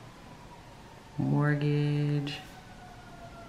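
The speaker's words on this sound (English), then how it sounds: "oops, sorry about the emergency vehicle" An emergency vehicle siren sweeps past outside a normally quiet home, rising loud for about a second with harmonic wails, then fading, while someone speaks quietly underneath.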